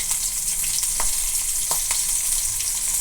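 Crushed garlic and green chilli frying in hot oil, a loud, hissing sizzle that holds steady throughout, with a few light spoon knocks against the pan and no talking.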